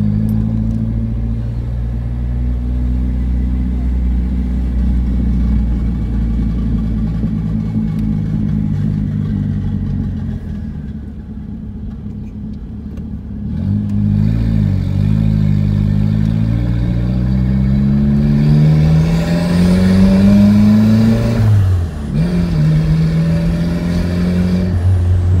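Car engine on a first test lap, heard as a loud, close, continuous drone that dips briefly and then climbs again as the revs rise, with no one speaking.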